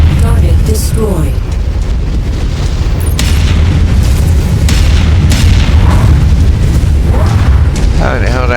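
Heavy booming explosions roar continuously as a mech is destroyed in MechWarrior 5 battle, loud and close with rumbling blasts and sharp cracks, while a voice speaks over the din.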